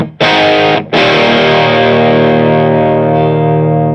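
Two loud distorted electric guitar strums with the tone knob set to the middle, the second ringing out and slowly fading with a slightly softened top end.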